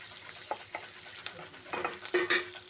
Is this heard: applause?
no